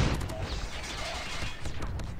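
Dense, rapid gunfire crackles through a Hardpoint match in the mobile shooter COD Mobile, with overlapping automatic bursts that stay loud and continuous for the whole stretch, without talk.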